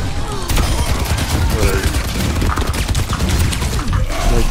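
Rapid, continuous gunfire from a weapon in Overwatch, dense and loud throughout, with battle noise layered underneath.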